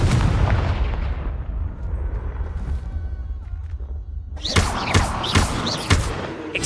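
Confringo blasting spells in Hogwarts Legacy burst in a series of sharp, booming explosions, first one heavy blast with a decaying rumble, then several rapid cracking impacts close together near the end.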